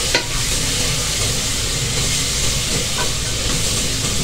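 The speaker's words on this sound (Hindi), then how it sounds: "मसाले को हमने तकरीबन 5 से 7 मिनट तक अच्छे से भुनाई करनी है इसकी।" Spices with chilli, salt and turmeric roast in a hot pan, a loud continuous close sizzle and hiss with faint stirring scrapes throughout.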